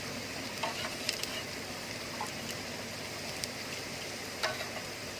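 Onions sauté in a pan for a sardine fish curry, giving a continuous soft sizzle with scattered light scrapes and taps as they are stirred, fairly quiet and close, with no voices.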